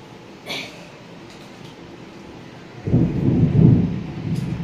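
Thunder rolls during a storm, a brief distant crack followed a few seconds later by a louder, lingering low rumble that builds and fades, with light rain hiss underneath.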